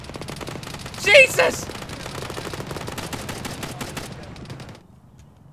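Machine gun fire in the military shooter game ArmA 3, a rapid rattling stream of shots with a louder burst near the start, under excited shouting from players, fading out toward the end.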